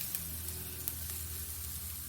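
Grated coconut and leaves sizzle in a pan for a Kerala thoran, a steady close hiss with faint crackles running throughout, no voices.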